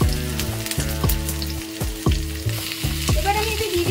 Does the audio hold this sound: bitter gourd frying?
yes